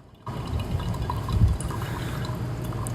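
Water pours over coffee grounds in a V60 pour-over brewer in a steady, soft stream, starting abruptly and running continuously with a gentle trickling texture.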